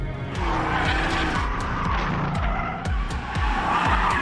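A turbocharged BMW M5 being driven hard, its engine a muted, bass-heavy drone with a rapid rhythmic low pulsing, joined by tyre squeal and skidding throughout, loud and close with no talk.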